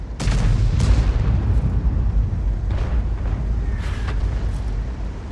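A Conqueror Gun Carriage tank destroyer fires a round in War Thunder, a heavy close boom that rolls into a rumbling tail, followed by further distant thuds and crackling impacts over a constant low engine drone.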